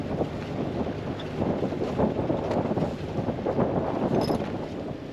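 A sailboat under engine power heading into harbour at Tarbert on Scotland's west coast, a steady low motor drone mixed with wind buffeting and water wash, continuous and fairly loud throughout.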